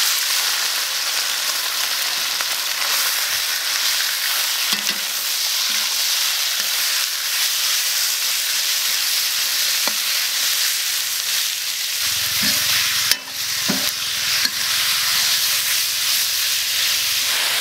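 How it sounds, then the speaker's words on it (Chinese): Steady loud sizzling of pork belly stir-frying in a wok, continuous hiss with occasional scraping stirs and a low rumble near the end. "这五花肉全部下锅炒。"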